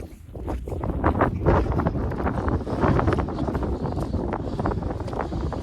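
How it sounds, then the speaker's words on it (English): Relentless wind of around 50 mph buffets the microphone on the Clougha Pike hilltop in the Forest of Bowland, a loud continuous roar with surging gusts. "Oh, that's relentless, that wind."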